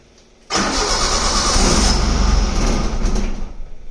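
A car engine cranks and catches, then runs loudly at a steady, slightly rough idle close by.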